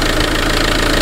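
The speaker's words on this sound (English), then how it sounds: "this vehicle's idling" Steady, loud idle of a Land Rover Puma diesel engine, a continuous close-up rumble with a rapid, even knock-like pulse and no voices.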